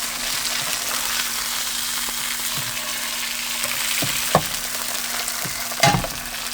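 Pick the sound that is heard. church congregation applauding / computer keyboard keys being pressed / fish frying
fish frying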